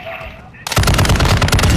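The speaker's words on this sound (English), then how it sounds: "I'm gonna go start shooting at it." Rapid automatic gunfire from the Call of Duty DMZ video game bursts in loudly after a quiet opening and continues as a dense, sustained rattle, with a faint voice underneath.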